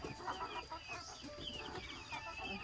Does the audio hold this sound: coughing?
no